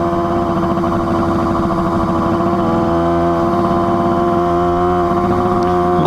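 A 1966 Yamaha YL1 100 Twin Jet, a vintage twin-cylinder two-stroke motorcycle, runs with a steady buzzing, ringing engine note that rises and dips slightly in pitch, close and loud throughout with no talking.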